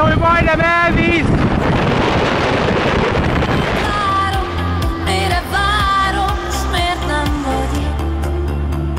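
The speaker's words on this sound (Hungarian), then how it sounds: "Annyira fúj a szél, hogy majdnem elvisz!" Strong wind at Lake Garda roars and buffets the microphone in a loud, continuous low rumble, with voices and some tonal sounds over it.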